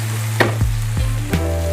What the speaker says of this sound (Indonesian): Saya goreng juga untuk serundengnya ini